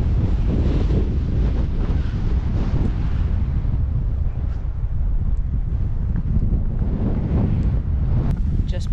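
Strong, chilly wind buffets the microphone on the Heysen Trail between Kapunda and Light Hummocks, a loud, continuous roar that rumbles and gusts throughout with no other sound coming through.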